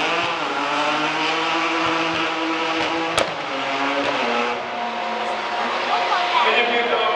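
Renault Twingo race car with a 320 hp professional racing engine, heard in the main straight at the Hungaroring, holding a steady loud engine tone that shifts pitch as it revs, with crowd noise and voices around it.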